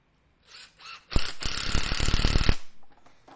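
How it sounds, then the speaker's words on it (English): A power driver sends screws into the trunk of an English elm bonsai, two short whirring test bursts followed by a loud, rapid ratcheting drive lasting over a second, close up, then a brief quiet whir. "So you can see I'm putting some screws in."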